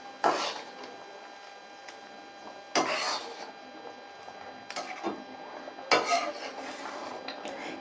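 A spoon scrapes and stirs through cauliflower masoor dal with ghee in a pot, giving a few distinct bursts of metallic scraping and clinking separated by quieter gaps, close up.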